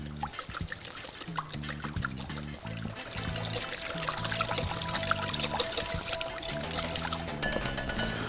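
Buttermilk is poured into a mixture containing port wine, making a steady close pour with trickling splashes over a rhythmic background.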